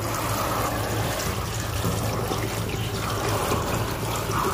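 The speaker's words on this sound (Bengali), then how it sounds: "বন্ধুরা, শাকটা প্রথমে কলে ধুয়ে নিচ্ছি" Running tap water splashes steadily over leafy greens as they are washed by hand, a continuous close rush of water with no talking.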